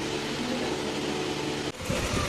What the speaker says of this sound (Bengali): এখানে ফ্যানের মেলা বসেছে এখানে ফ্যান এখানে ফ্যান